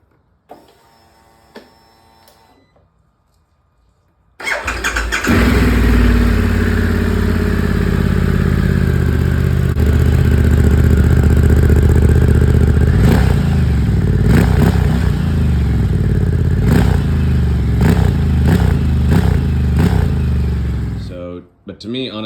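A Harley-Davidson Pan America motorcycle with a Screamin' Eagle exhaust starts after a few quiet clicks, then idles and revs with a steady, loud engine drone and several sharp throttle blips. Wind and road noise accompany it toward the end as it rides off.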